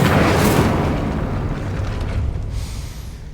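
A fiery Incendio spell erupts in Hogwarts Legacy with a loud, roaring whoosh of flame that bursts at the start and slowly fades away, heard alone without talk.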